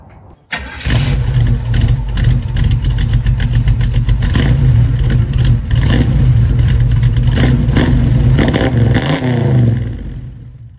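A 1936 Chevy coupe engine cranks and catches, then runs loud and close for about ten seconds with repeated revs rising and falling before it cuts off.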